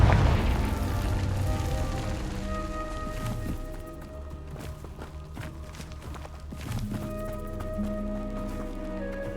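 Confringo fire spell blasts in Hogwarts Legacy, with booming bursts at about 4 s and 6.5 s over ongoing game sounds, footstep-like patter and layered music tones.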